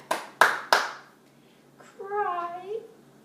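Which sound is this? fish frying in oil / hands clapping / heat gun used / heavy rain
hands clapping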